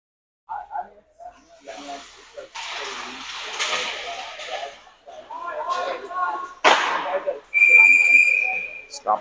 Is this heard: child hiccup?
no